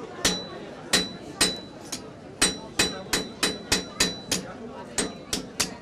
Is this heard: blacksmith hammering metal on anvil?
yes